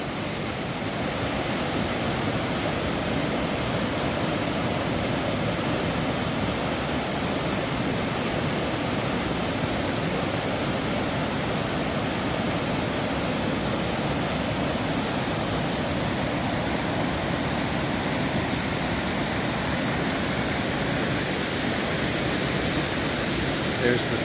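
The first waterfall on the Falls Trail at Ricketts Glen State Park pours fast and heavy, a steady broadband roar of rushing water that fills the whole stretch without a break, loud and close.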